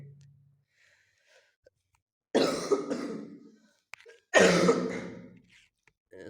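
A person coughs twice in quick bursts, loud and close, separated by a few seconds of near silence with a faint throat noise at the start.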